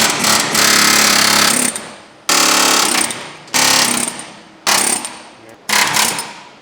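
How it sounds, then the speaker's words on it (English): Air hammer chisels rivet heads off a C30 dually truck suspension, five loud sustained bursts of rapid pounding separated by short pauses, close and harsh with no talk. "we're gonna cut the heads of these rivets off with the air hammer."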